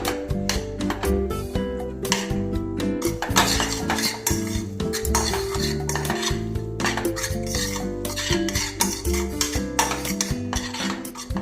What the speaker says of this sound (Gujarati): સારી રીતે હલાવતા રહીશું જ્યાં સુધી આપણી દૂધી એકદમ ભરી ના જાય.